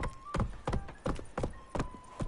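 Horse Roach from The Witcher 3 gallops in a steady rhythm of heavy hoofbeats, six clustered thuds spaced evenly across the stretch, close and fairly loud with faint tonal game music underneath.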